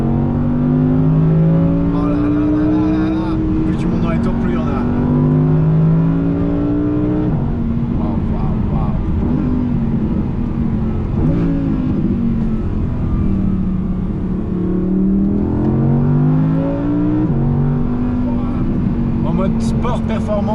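A 2019 Audi R8 Performance V10 revs up and down while driving on a cold, snowy road. The engine rises repeatedly in long swells with gear changes between them, loud and close from inside the cabin, with occupants talking over it.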